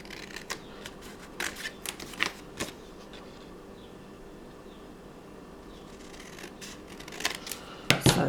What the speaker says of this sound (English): keep cutting enough off so it slips easily into your envelope and it's the size that you want it to be